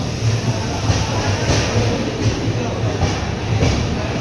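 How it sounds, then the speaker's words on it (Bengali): The Vivek Express, a long-distance Indian passenger train, rolls past on the rails near Dankuni with a loud, continuous rumble and rhythmic clickety-clack of wheels over track joints. "বিবেক এক্সপ্রেস, এটা ইন্ডিয়ার লংগেস্ট রুটের ট্রেন।"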